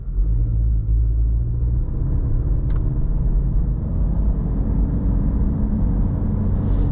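A 2023 Acura Integra A-Spec turbo car drives along, with a steady low engine and road rumble inside the cabin that holds even throughout, without talk.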